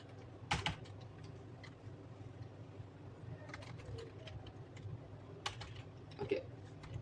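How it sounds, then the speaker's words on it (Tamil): Typing code on a computer keyboard: a few sharp, close bursts of key clicks separated by pauses, with a pigeon cooing faintly in the background. "அதுக்கான கோடை வந்து நம்ம டைப் பண்ணுவோம்"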